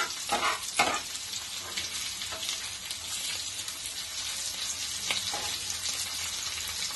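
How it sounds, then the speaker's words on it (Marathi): Prawn-stuffed pomfret fries in a pan over medium heat, giving a steady, close sizzle with busy crackle throughout and a few brief louder spits, and no voices. "त्या साईडने सुद्धा आपल्याला 1 मिनिट फ्राय करून घेऊया"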